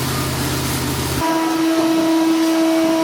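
A loud, continuous machine roar with a steady whine fills the clip, its tone shifting after a second, like a large concrete floor grinder with 400-grit pads running nearby during mechanical concrete polishing.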